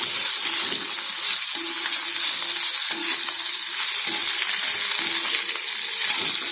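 Boiled rice-flour kozhukattai dumplings go into a hot tempering pan, setting off a loud, steady sizzle of frying oil with faint stirring scrapes, while a voice speaks briefly over it.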